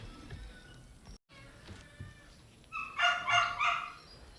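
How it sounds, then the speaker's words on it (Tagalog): A hungry kitten gives a few high, plaintive meows near the end, after quiet rustling and a brief dropout. "Gigutom na po si Kuting-ting"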